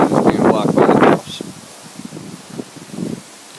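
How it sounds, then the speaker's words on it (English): Strong wind of about 20 mph gusts around a small horizontal-axis wind turbine, a loud rushing blast buffeting the microphone at first, then easing to softer, intermittent gusts. "We got some good wind today. It's 20 mile an hour."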